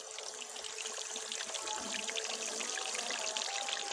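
Fish pieces fry in hot ghee over medium heat with a continuous bright sizzle and crackle, steady and close, with no talking.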